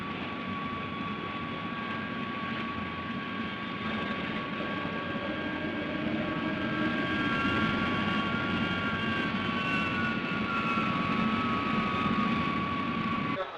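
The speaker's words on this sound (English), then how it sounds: "X-80, standing by for takeoff." The X-80 experimental aircraft's engine roars steadily during its takeoff roll in a 1960 film, a continuous whining jet drone with sustained high tones that grows slightly louder partway through, with no talking.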